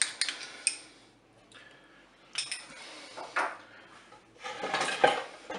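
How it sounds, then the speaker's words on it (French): Spaghetti and chicken with tomato mustard sauce being stirred in a Cookeo pot: a few sharp utensil clinks and scrapes against the pot, separated by quiet pauses, close and moderately loud, with no talking. "je vais mélanger"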